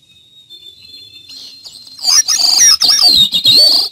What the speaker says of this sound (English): Gray-cheeked thrush.